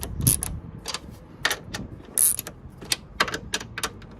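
Ratcheting wrench clicks and metallic knocks as the top strut nuts are tightened down on a Hyundai Veloster N during an OEM strut bar install, an irregular series of sharp close-up ticks and clanks.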